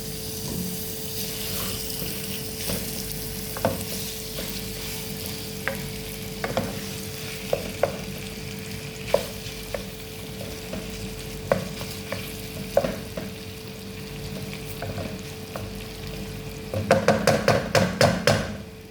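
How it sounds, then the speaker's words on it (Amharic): Half a kilo of meat sizzles steadily in oil in a pan while a utensil scrapes and stirs at irregular intervals, ending in a quick burst of rapid scraping strokes. "ስጋችን እየተቁላላ እዚህ ጋር ደርሷል"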